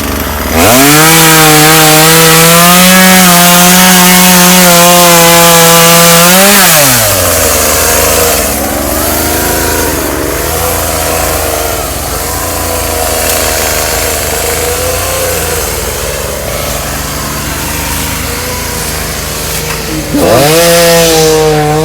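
Chainsaw running loud and close while clearing brush, revving high for several seconds, dropping to a lower labored drone as it bogs in the cut, then revving up again near the end; no talking.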